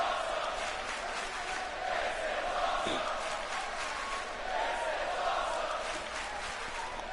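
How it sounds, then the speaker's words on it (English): Wrestling crowd in Chicago at a UPW Revenge match, a low, steady roar of many voices heard from a distance, swelling slightly now and then throughout. "The Chicago crowd here loving this match already."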